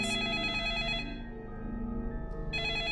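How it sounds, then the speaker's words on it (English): An in-game telephone rings in 428: Shibuya Scramble, a steady electronic trill that sounds clearly, pauses briefly, then resumes over a layered musical background. "The sudden ringing of the phone startled everyone in the room."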